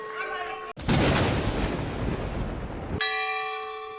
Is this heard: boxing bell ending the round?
yes